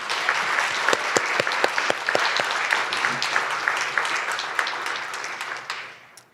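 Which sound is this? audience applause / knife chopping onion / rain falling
audience applause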